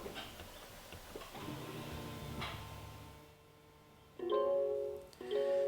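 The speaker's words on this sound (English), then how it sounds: "You should hear the caliper reset," Electronic rear brake caliper on a Mazda CX-30 resetting after a rear brake job, heard as two short, close mechanical motor whirs with a steady tonal hum, following quieter background rattling.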